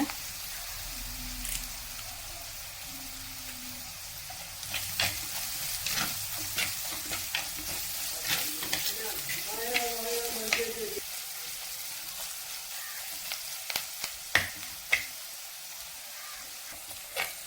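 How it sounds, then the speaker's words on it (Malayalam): Crushed ginger and garlic sauté in a pan for a fish curry, giving a soft steady sizzle with intermittent stirring scrapes and clinks, fairly faint, and a brief burst of louder bubbling midway. "നമ്മുടെ ഇഞ്ചിയും വെളുത്തുള്ളിയും ചതച്ചതെല്ലാം വഴന്ന് വരുന്നുണ്ട്"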